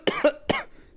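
Two quick coughs close on a podcast microphone, a short double hack followed by a second sharp cough, dry and alone with no talk.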